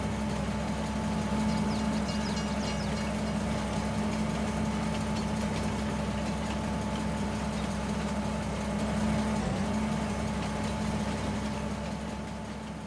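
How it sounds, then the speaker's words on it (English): A train runs in Farming Simulator 22 on a forest map, heard as a constant low engine drone with a steady hum that holds at even loudness throughout, with no voices over it. "The train will return on the other side of the map."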